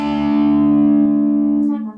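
A single sustained electric guitar chord, barred across the 3rd and 4th strings, rings out from two strings played together, holding steady and bright before fading near the end.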